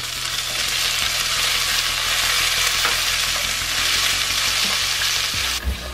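Peas and carrots frying in a pan, a loud continuous sizzle close up with occasional stirring, ending in a brief clatter.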